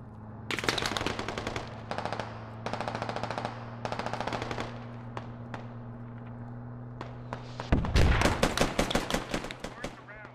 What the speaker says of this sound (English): I think that's an FEL firing right now